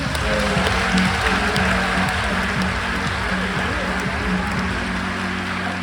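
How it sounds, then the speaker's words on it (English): Conference audience applauding at a tactile reading and graphics event in Amsterdam, a steady dense wash of clapping held at an even level throughout, with no clear individual claps standing out. "I want to ask you for a couple of applauses"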